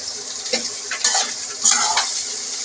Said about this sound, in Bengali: তেলটা আমার গরম হয়ে গিয়েছে, এখন আমি পেঁয়াজটুকু দিয়ে দিব।